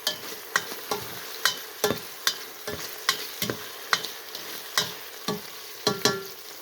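Ginger and spices fry in a pan with a steady sizzle, while a utensil stirs them in repeated scraping strokes roughly every half second, close and moderately loud.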